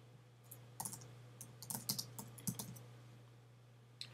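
Keys clatter on a computer keyboard in uneven quick bursts of clicks over a steady low electrical hum, close and fairly quiet, with no voices.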